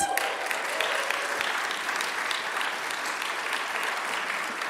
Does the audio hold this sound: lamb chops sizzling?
no